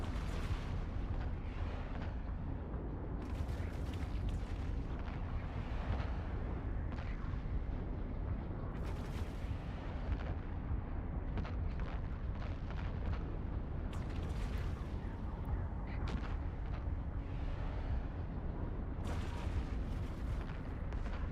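Turrets are shot and destroyed in a spaceship video game, a dense, steady rumble of booming explosions and artillery-like bursts continuing throughout at a moderate level, with no talking.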